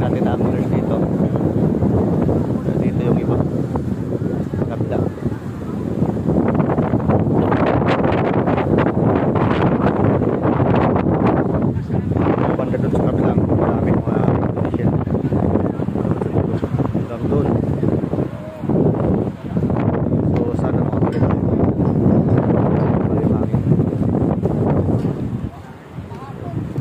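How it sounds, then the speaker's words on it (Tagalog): Heavy wind buffets the microphone in a constant low roar for the whole stretch on the Jeddah corniche by rough sea, loud and close, briefly easing near the end. "Ang problema lang ngayon, sobrang lakas ng hangin."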